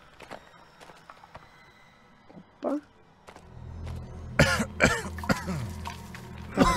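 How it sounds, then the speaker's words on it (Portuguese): A game character in the horror title Maid of Sker coughs and clears his throat in sudden bursts, with faint footsteps and low ambient rumble around the coughs. "Tem hora que ele começa a tossir do nada."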